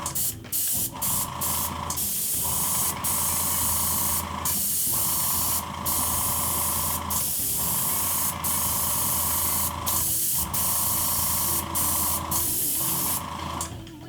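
Spray paint hisses from an aerosol can in steady bursts of a few seconds each over a machine-cut stencil for prop decal painting, with brief pauses between passes, loud and close.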